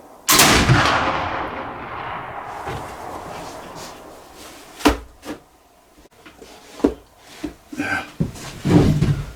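A black powder rifle fires one loud shot with an 80 grain Goex charge, a sharp report whose echo rolls away over a couple of seconds, followed by scattered handling knocks and clatter close by.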